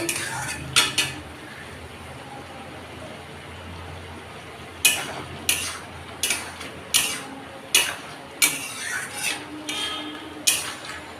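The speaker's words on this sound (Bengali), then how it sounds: "এবার আবার ঢাকনাটা খুলে দিচ্ছি" A metal pot lid comes off during cooking of a Bengali curry, with sharp clanks and clatters of metal utensils repeating at close range. The sounds are mostly sparse at first, then come in a quicker series of knocks against a quiet kitchen background.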